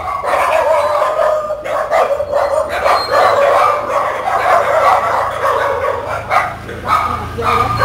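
Several dogs and puppies at a rescue in Sa Đéc bark, yip and whimper repeatedly in a loud, busy overlapping chorus close by, with people talking underneath.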